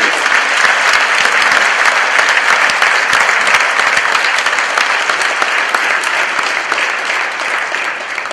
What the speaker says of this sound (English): Let's give them a nice big round of applause and appreciation.